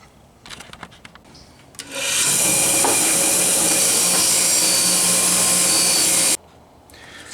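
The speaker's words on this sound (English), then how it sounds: "we will clean those parts up and wire wheel, belt sand, fiber wheel, so on and so forth" A power tool such as a wire wheel or belt sander cleaning ratchet parts: after a few scattered knocks, a loud, steady grinding roar runs for about four seconds, then cuts off abruptly.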